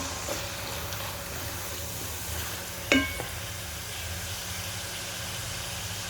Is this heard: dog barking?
no